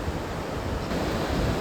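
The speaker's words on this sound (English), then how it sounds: "The waves are a little rough" Rough ocean surf rolls in at Port Aransas, Texas, as a steady, close, broadband wash of breaking waves mixed with wind rumbling on the microphone, with no voices.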